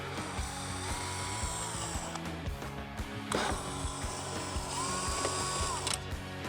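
A hand ratchet clicks steadily as it backs out the lower headlight screws on a Harley-Davidson Street Glide, close and clear, with a brief clatter midway and no talking.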